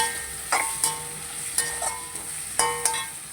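Ginger garlic paste sizzles in a hot pan while cooking mutton curry. A steady, fairly quiet frying hiss is broken by several short scraping stirs spaced about half a second to a second apart, with no talking.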